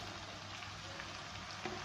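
Soft, steady sizzle of cut okra pieces frying in oil together with chicken in a pan, faint and continuous with small crackles.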